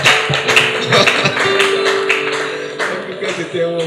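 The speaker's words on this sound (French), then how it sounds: "Est-ce qu'on peut d'abord applaudir pour Dieu?" Audience at a live gospel concert applauding, a rhythmic run of close, clear claps over a sustained musical backdrop with voices mixed in.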